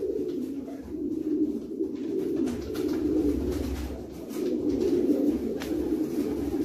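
A long and medium distance racing pigeon breeder hen cooing close by, soft low repeated coos rolling on steadily with faint background noise.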